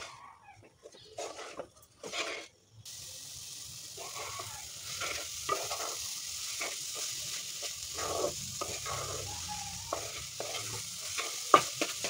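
Grated khoa and sugar filling for patishapta is stirred in a pan, making soft scraping and faint sizzling strokes at close range, fairly quiet with no talk.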